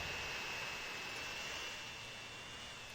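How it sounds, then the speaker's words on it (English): A fuel-carrying plane in Transport Fever 2 drones steadily with a continuous jet engine roar, an even, unbroken whine and rumble holding at a constant moderate level throughout. "Where is our Portland plane? It's going to drop off fuel here."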